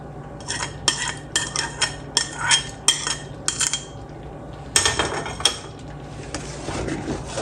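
A spoon stirs sago vermicelli kheer with dry fruits in a cooking pot. Close, loud metallic scrapes and clinks come in quick irregular strokes, pause briefly, then resume.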